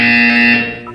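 A loud, flat electronic buzzer from the video game Portal 2 holds one steady harsh tone for about a second, then cuts off abruptly.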